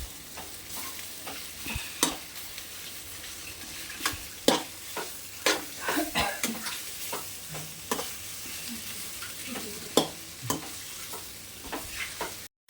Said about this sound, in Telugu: అండ్ ఇప్పుడు గోబీ వేసుకుంటున్నా. వీటిని కూడా బాగా మిక్స్ చేసుకోవాలి.